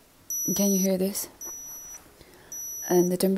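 An electric thermometer taking a temperature reading during a home quarantine gives three clear, high, repeated beeps at close range, with a person talking softly between and around them.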